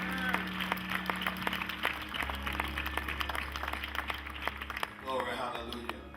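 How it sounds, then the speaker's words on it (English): Audience applause welcoming a speaker at a church testimony gathering, a steady patter of many hands clapping under a low hum, with voices calling out over it. "Let us receive him with a round of applause."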